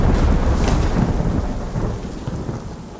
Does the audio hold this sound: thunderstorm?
yes